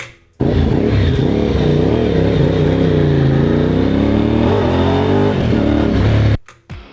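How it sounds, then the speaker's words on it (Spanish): A Moto Morini X-Cape 1200 motorcycle idles loudly close by, its engine note swelling and wavering through a short throttle blip before cutting off abruptly near the end. "Es una moto Morini X-Cape 1200. Y esa fue la primera vez que le di un toquecito al gas."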